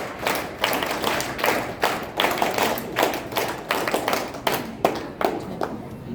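A crowd at a school award ceremony at Saraswati Sishu Vidya Mandir, Choudwar, claps in rhythmic waves of loud, dense hand claps and thumps, pulsing roughly every half second throughout.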